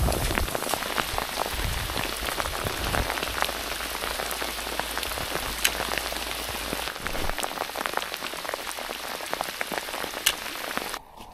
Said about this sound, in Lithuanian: Žiauriai lietus užėjo su ledai.